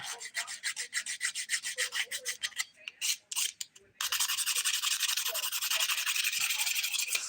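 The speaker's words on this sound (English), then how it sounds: "File the solid nails first." Fingernails are filed with a well-worn 180 grit nail file, a close, rhythmic rasping of quick back-and-forth strokes that pauses briefly, then becomes a faster, continuous scratching.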